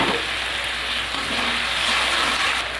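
Spice paste sizzling steadily in a pan with a little water added, a continuous close hiss without pauses and no voices.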